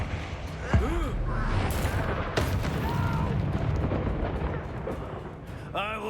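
A Bombarda blasting spell erupts in a Harry Potter video game, a loud booming explosion with a sharp onset and a long rumbling roar that fills the whole stretch, with a short voice-like call near the end.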